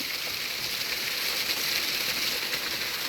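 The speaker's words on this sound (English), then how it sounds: "If it ever quits raining" Heavy rain pours during a hurricane, a loud, constant hiss of water with no breaks and no voices over it.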